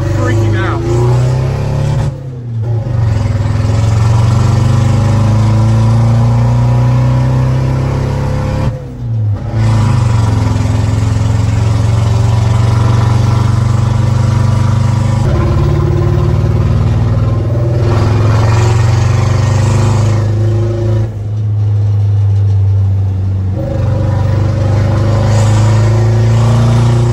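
A Thai turbo diesel pickup truck of about 200 horsepower growls loudly and close, its engine note climbing through repeated revving pulls with brief drops between gear changes, while people talk over it.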